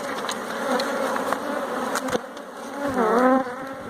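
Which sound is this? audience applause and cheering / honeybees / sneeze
honeybees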